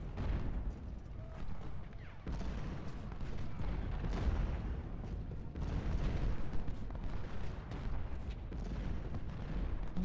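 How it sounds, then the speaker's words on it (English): Artillery cannon salvos in the Ultimate General: Civil War video game at Marye's Heights, a faint run of distant booming shots and rumbling reports spread across the clip. "One more salvo with the guns."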